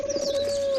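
Pigeons coo in a short, close call: one soft, throaty coo with a steady underlying tone, heard alone without speech.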